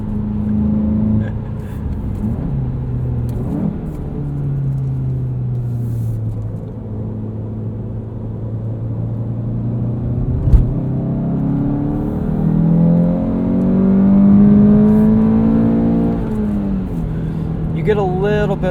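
Engine of a 2017 Volkswagen GTI Sport with a six-speed manual pulling hard through the revs on a track, a loud droning rumble that rises and falls in pitch from inside the cabin, with a voice talking over it.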